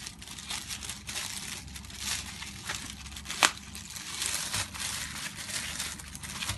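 A plastic bag being handled and folded around a plate, giving soft continuous crinkling and rustling with one sharper crackle midway, close and fairly quiet with no talking.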